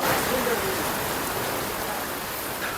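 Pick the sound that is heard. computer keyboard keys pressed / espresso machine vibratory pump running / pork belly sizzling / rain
rain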